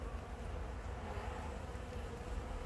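Honeybees at a hive the day after a formic acid treatment make a steady, dense buzzing drone that holds at a constant low level, with no talking.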